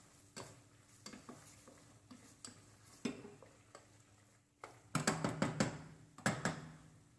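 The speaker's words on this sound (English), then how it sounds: "Then mix all together." Cheese, including cheddar, is mixed with other ingredients, with irregular spoon scrapes and clinks against the dish, growing louder and quicker in a few bursts near the end.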